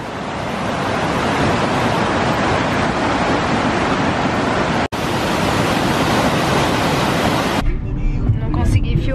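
A waterfall in the Serra Gaúcha roars as a steady, loud wash of broadband rushing water close by, continuous for most of the span before cutting away to quieter surroundings near the end.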